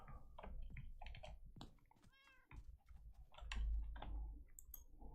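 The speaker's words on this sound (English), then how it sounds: "You're now Useless the cat" Cat meowing in Minecraft, with a short pitched meow near the middle among clicky game and keyboard sounds, moderately loud.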